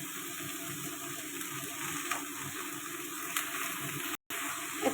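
Pumpkin and rohu fish curry with salt and turmeric frying in a pan, giving a steady, soft hiss and sizzle that carries through with a brief gap near the end, with no talk.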